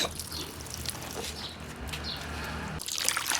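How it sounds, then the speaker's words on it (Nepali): Clothes are washed by hand in water, giving faint, continuous sloshing and trickling close by with light splashes, and a few bird calls in the background. "र म कपडा धुनलाई स्टार्ट गरेँ गाइस"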